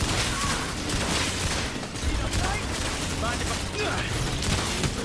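Rapid weapon fire in the shooter game Lawbreakers, a dense continuous crackle of shots mixed with game effects and background noise, fairly quiet and steady across the whole stretch.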